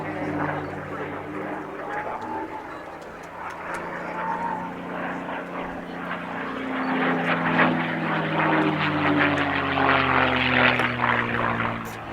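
A P-51 Mustang propeller fighter performing a barrel roll at an airshow gives a steady, droning engine roar that swells louder in the second half, with crowd chatter and background voices underneath.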